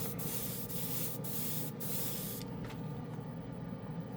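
Grex airbrush misting Cosmic Silver acrylic paint from Green Stuff World, a steady continuous airy hiss with a few brief pulses of stronger spray near the start, close and even throughout.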